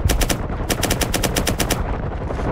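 Several guns fire together in rapid bursts, two clusters of loud, closely spaced sharp cracks separated by a brief pause, fading into rumbling echo.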